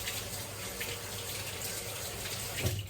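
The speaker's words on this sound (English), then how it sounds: "just wash my hands" A kitchen tap runs steadily while hands are washed, a constant close splashing hiss of water with a brief louder splash near the end.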